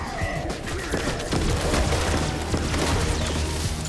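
A ray gun fires rapidly at zombies in Black Ops 6 Zombies on the Liberty Falls map, a dense, continuous barrage of blasts and impacts layered over loud, chaotic game noise throughout.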